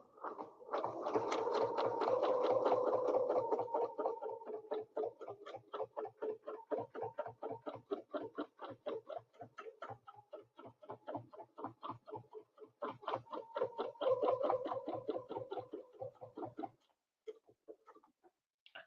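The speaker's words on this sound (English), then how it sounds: "And now we're going to go double stitch on the bottom" A domestic sewing machine double-stitches along the bottom of a snowflake ruler-quilted piece in long, rapid rhythmic runs with a brief pause midway, then stops near the end.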